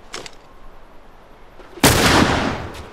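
A single loud, close gunshot in The Last of Us Remastered video game cracks after a near-silent pause and rings out in a decaying tail, with faint sounds before it.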